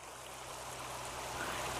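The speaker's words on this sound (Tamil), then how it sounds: "அவ்வளோ தண்ணி வந்து இங்கே வருது" Fast water rushes through a narrow village drain channel, a steady, unbroken roar of flowing water that swells slightly louder toward the end, with no voices.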